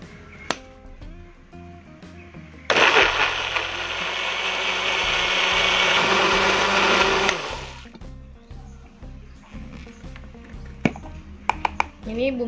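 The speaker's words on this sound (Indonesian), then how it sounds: "Kita tambahkan sedikit air untuk memblender." An electric blender grinds a spice paste with a little water for Acehnese duck eggs in coconut sauce: a loud, steady whirring roar for about five seconds, then kitchen clatter and music.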